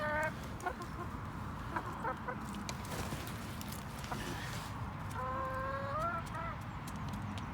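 Bantam chickens cluck nearby in short bursts, with a longer rising call near the end over a low rumbling background.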